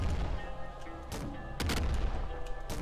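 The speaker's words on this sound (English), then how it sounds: "let's have a swatch at the grenade shotgun for a second" Grenade shotgun firing in the PC game Nuclear Throne, heard as a few loud, sharp blasts with bursting booms, one after another over a steady game background.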